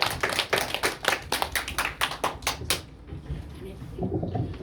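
A church congregation at a Christmas Day Sunday service claps in a rhythmic burst for several seconds, then the clapping stops and a voice begins speaking at a lower level.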